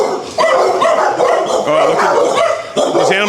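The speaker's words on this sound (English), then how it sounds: "We got a pit bull there." A pit bull at an animal control facility barks loudly and close by, a few sharp barks in quick succession with short pauses between them, while people talk faintly in the background.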